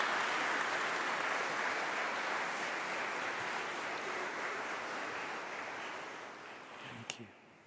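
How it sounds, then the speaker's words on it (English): Graduation ceremony crowd gives a long, even round of applause for families and friends, a continuous dense roar of many hands heard from a distance in a large hall, tapering slightly near the end. "give a round of applause to thank your supporters, your family, your friends"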